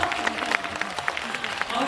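Brief audience applause at a live stage talk event for a film, scattered claps across a short burst at moderate level, with voices mixed in.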